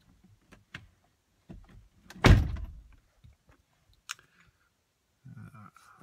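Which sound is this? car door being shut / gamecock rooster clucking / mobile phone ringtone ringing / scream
car door being shut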